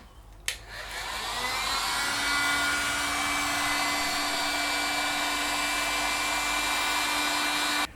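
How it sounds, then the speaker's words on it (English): A paint stripper heat gun drying a freshly formed clay bonsai pot clicks on and roars up to a steady, loud whooshing blow with a faint whine, running continuously at close range with no talk. "I'm going to use this paint stripper heater to try to dry it a little bit to stiffen it"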